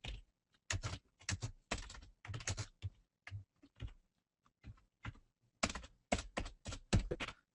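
Fast, uneven bursts of computer-keyboard typing while coding an ASP.NET session-timeout popup, close and clear, with short pauses between clusters of keystrokes and no talking.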